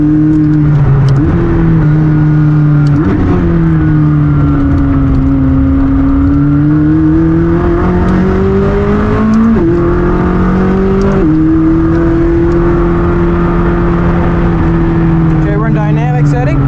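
A Ferrari 488 Pista or McLaren 600LT sports car in track mode accelerates hard, its engine note rising loudly through several upshifts with short dips between gears, heard steadily from close by inside the car.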